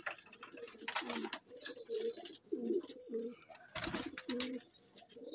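Pigeons coo repeatedly in a loft being rebuilt, low rolling calls in overlapping bursts close by, with faint higher chirps and a brief rustle or flutter midway.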